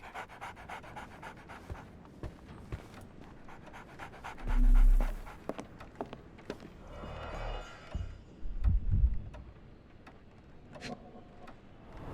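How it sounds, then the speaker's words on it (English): A dog pants in the video game Sherlock Holmes The Awakened, its rapid breaths running steadily through the scene with a few soft thuds and game ambience around them, no talk. "So, Barnes has a dog now"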